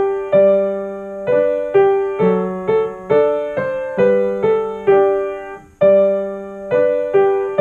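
Left-hand piano accompaniment in G alternating do and so, with clear, evenly spaced struck notes, each decaying before the next, played alone at a moderate pace.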